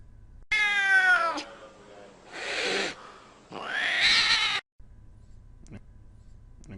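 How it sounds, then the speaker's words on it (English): A cat meows twice in drawn-out, wavering cries, with a shorter harsh sound between them, close and loud, then quiet room hiss. "it's more fun than trying to pet this cat."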